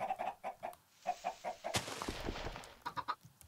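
A chicken clucks in a quick, steady series of short soft calls, breaks off during a burst of rustling noise, then resumes clucking, all fairly quiet.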